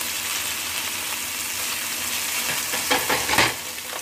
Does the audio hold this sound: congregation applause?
no